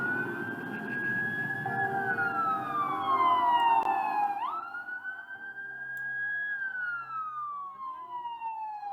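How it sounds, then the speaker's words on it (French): A fire engine's or police car's wailing siren sweeps up and down, fairly near and passing, over the low rumble of road traffic, with no speech. "j'ai entendu des bruits de sirène de police"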